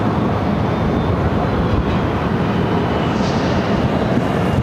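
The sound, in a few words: airliner departing Phoenix airport for SFO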